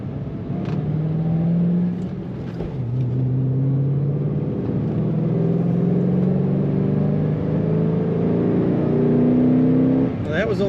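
A 2006 Ford Mustang Roush Coupe accelerates in second gear through a roundabout to about 4,000 RPM. The engine drones loud and close from inside the cabin, its pitch climbing in rising sweeps before easing off near the end.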